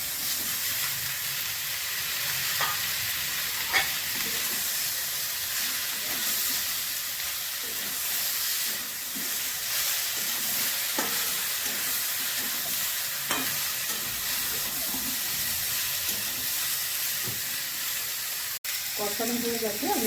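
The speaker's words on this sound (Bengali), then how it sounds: "একসঙ্গে কষিয়ে নেব।" Cauliflower florets and potato pieces sizzle and fry in a pan while being stirred, a steady frying hiss running throughout with periodic scraping clicks from the spoon; no talking.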